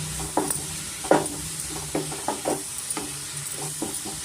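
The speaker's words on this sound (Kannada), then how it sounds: "ನಾನು ಮೆಂತ್ಯ ಸೊಪ್ಪು ಸೇರಿಸ್ಕೊತಾ ಇದ್ದೀನಿ ಸ್ವಲ್ಪ ನಾವು ಮಿಕ್ಸ್ ಮಾಡ್ಕೊಣ" Fenugreek leaves being stirred into onion and potato frying in a pan for aloo methi curry, with a series of uneven scraping and clattering stirs over a faint steady sizzle, close up and with no talking.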